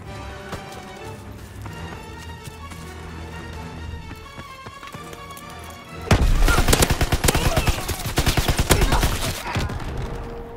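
Machine gun fire from a strafing run in a World War II video game erupts as dense, loud rapid bursts, following a stretch of quieter game ambience and music.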